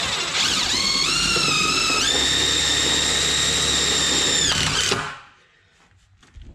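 A power drill drives self-tapping screws through a metal-backed enclosed trailer wall, a loud close whine that rises in pitch, holds steady for several seconds, then stops abruptly.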